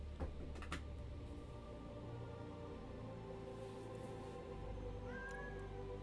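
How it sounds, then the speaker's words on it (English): A cat meows indoors, a faint, drawn-out call near the end over a quiet room hum, with a couple of soft clicks earlier. "Why is the cat so excited?"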